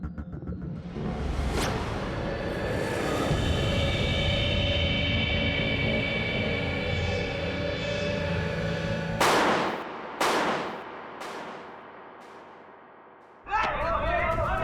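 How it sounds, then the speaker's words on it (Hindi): Firecrackers go off outdoors at night, a long roaring crackle followed by several sharp, loud bangs, with a voice speaking near the end. "ये कोई वक्त है पटाखे फोड़ने का?"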